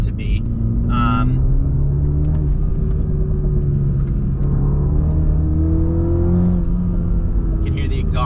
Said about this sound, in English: You can hear the exhaust popping